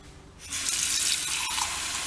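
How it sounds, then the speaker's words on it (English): Water rushes steadily from a tap through a Kenuos 7500W tankless water heater system, starting abruptly after a brief quiet moment and continuing as a loud, close, even hiss. "Right now I'm just running water through the system to make sure there's no air"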